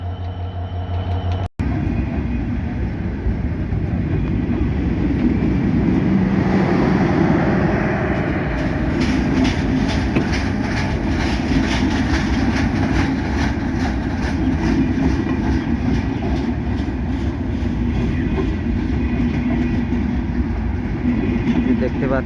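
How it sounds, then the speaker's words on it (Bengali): The Silk City train from Rajshahi to Dhaka passes Majhgram station beside a waiting Dhalarchar Express, a loud, continuous rumble with rhythmic wheel clatter building from midway and holding steady to the end. "এই যে দেখতে পাচ্ছেন মাঝগ্রাম স্টেশনে silk city train Rajshahi two Dhaka যাচ্ছে।"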